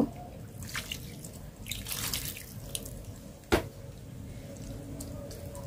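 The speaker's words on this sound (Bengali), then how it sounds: "আমি হালকা একটুখানি পানি দিয়ে দিব" Water splashes and pours briefly into a pot, with a faint drip and a sharp clink partway through, close up.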